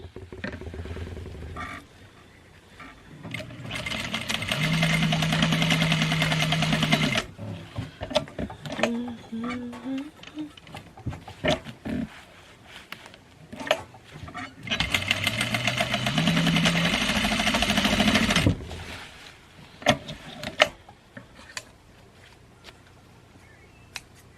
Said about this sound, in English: I gotta sew this in. Hold on. Please hold. Here, watch me sew it.